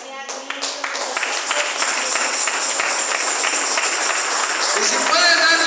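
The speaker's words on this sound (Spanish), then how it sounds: "vamos a darle una ofrenda de palmas al Señor" Church congregation clapping as an offering of applause to the Lord, swelling from scattered claps into steady, loud, sustained applause with voices mixed in.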